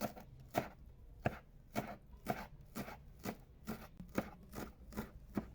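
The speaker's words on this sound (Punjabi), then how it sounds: "ਹੁਣ ਵਾਰੀ ਇਹ ਪਈ ਹਰੀ ਧਨੀਆ ਕੱਟਣ ਦੀ। ਇਹਨੂੰ ਵੀ ਬਿਲਕੁਲ ਬਰੀਕ ਬਰੀਕ ਕੱਟਾਂਗੇ ਆਪਾਂ।" Fresh coriander being finely chopped with a knife on a board, crisp evenly spaced strokes about two per second, close and clear with no talking.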